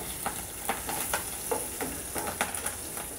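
Garlic and a sprig of curry leaves sizzle in hot tempering oil for a chutney, a continuous bright frying hiss broken by sharp crackles and pops at an uneven rhythm, close up and with no speech.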